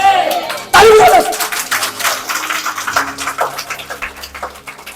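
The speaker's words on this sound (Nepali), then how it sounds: "ताली बजाउनुहोस्।" Congregation at a Nepali church service claps hands together, a loud dense burst of crowd applause with cheering voices mixed in, continuing steadily to the end.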